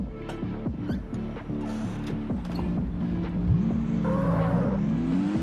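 A tuned car in a racing video game, about 247 horsepower and running sport fuel with racing tires, revs and accelerates, its engine tone climbing and sweeping in pitch over a steady mechanical drone.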